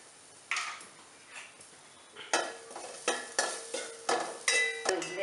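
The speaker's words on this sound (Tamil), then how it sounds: "நம்ம தேங்காயும் கொஞ்சம் வறுத்து எடுத்துடலாம்" Grated coconut is roasted in a pan while a spatula scrapes and stirs it in steady, evenly spaced strokes over a faint sizzle, quiet at first and then repeating regularly.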